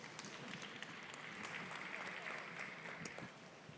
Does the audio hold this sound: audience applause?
yes